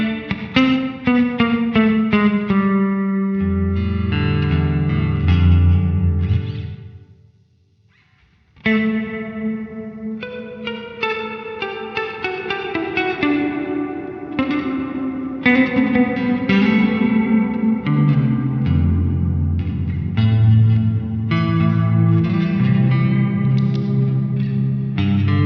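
Clean electric guitar through the plate reverb of a Nux Amp Academy NGS-6 amp: chords and single notes ring out loud and continuous, trailing into a long washy tail, with a brief near-silent pause after a sustained chord before playing resumes.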